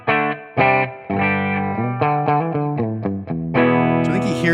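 Distorted electric guitar played through a Tonex XTC power amp model on the L excursion setting, neck pickup, ringing out a run of loud sustained chords and notes with effects, alone with no talk.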